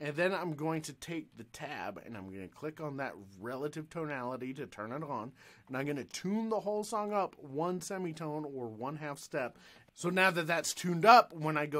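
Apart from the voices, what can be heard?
No distinct noise like a dog, phone or traffic.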